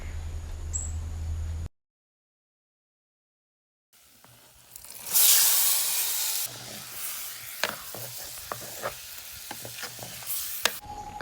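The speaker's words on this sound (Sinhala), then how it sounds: "ඒ වගේම චිකන් එකත් මම මේ විදිහට අමුද්‍රව්‍ය ඔක්කොම එකතු කරලා කලවම් කරලා තෙලට දාගන්නවා" Marinated chicken dropped into hot oil in a home kitchen, with a loud burst of sizzling and frying after a short silence, then steady crackling and spitting oil with occasional sharp pops and stirring clatter.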